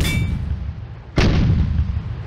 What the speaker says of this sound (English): Hamon's tank is hit by a fast-firing cannon.